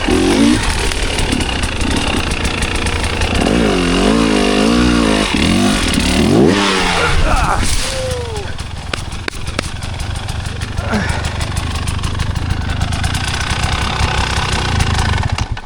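A KTM 300 two-stroke enduro dirt bike revs hard on a sketchy fall trail ride, its engine note rising and falling in bursts, with voices talking over the steady motor roar.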